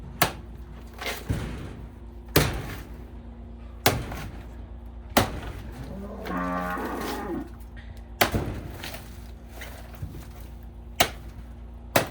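In a cow shed, one drawn-out moo from a cow rises midway, surrounded by regular sharp knocks and bangs, with a low steady hum underneath and nobody speaking.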